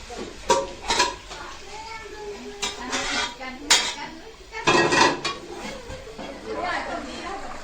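Desi chicken pieces clatter into a metal pot in a close, busy kitchen, with repeated clinks of cutlery and dishes, bursts of knocking against the pan, and voices chattering underneath.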